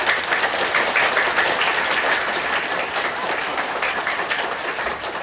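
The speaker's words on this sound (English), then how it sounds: "So give a big round of applause for him." Loud, dense applause from a school assembly audience on World Environment Day, many hands clapping in a sustained, even roar close to the microphone.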